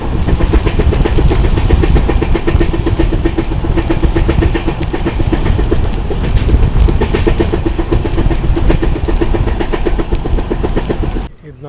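Yesvantpur Sindhanur Express with LHB coaches rolling into a station platform, a loud continuous rumble with steady wheel clatter and engine drone, heard close from on board throughout.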